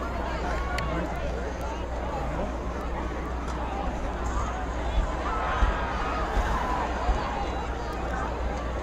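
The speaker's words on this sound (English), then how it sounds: "they've been loud, considering you can hear them from over here all the way across the field" A rowdy Frederick High School football crowd across the field roars in a steady distant din with faint shouts throughout, under nearby talking.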